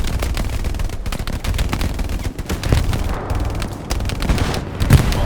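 Sustained machine gun fire in the World War II shooter Hell Let Loose, dense rapid bursts rattling almost without pause, loud and near, with brief gaps between volleys and no talk.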